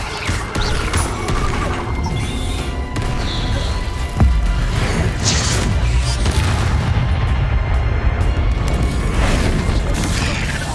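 A Bombarda blasting spell detonates in Hogwarts Legacy, a loud booming explosion with a sharp crack around the middle, set in a dense, continuous roar of crashing game effects and rumble.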